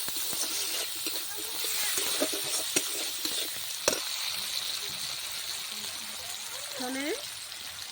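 Onions frying in a pan as tomato goes in, a soft steady sizzle with scattered clinks and scrapes of stirring, and a voice talking quietly over it.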